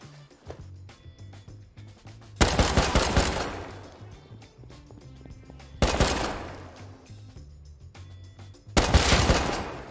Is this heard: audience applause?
no